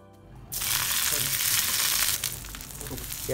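Salmon wrapped in banana leaf, with coriander leaves, hits hot oil in a pan and bursts into loud, steady sizzling that settles into a slightly softer crackle after a quiet start.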